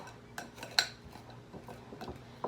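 Cold butter is worked into a muffin crumb topping in a bowl, with sparse metallic clinks and soft scraping knocks of a utensil against the dish, close and quiet, with no talking.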